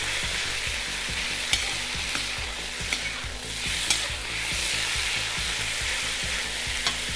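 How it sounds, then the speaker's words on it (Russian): Chicken frying in oil in a pan for a warm salad, stirred continuously: a bright, dense sizzle with rhythmic spatula scrapes and occasional sharp clicks, close and loud, no talking. "ее можно сразу же помешивать чуть-чуть, чтобы она вся в масле пропиталась"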